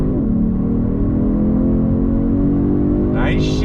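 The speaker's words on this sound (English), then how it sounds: "You can hear the downshifts of the gearbox." A 2022 Genesis G70 sport sedan with an 8-speed automatic gearbox drones steadily under acceleration, its engine note rising and stepping through gear changes, loud and close from inside the cabin.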